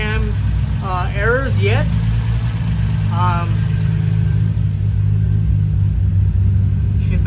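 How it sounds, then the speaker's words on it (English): A car engine idles after its cam and crank sensors were repaired, holding a steady low hum throughout while someone talks over it. "She's been idling for quite a minute now."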